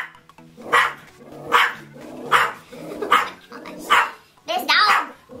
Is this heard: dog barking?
yes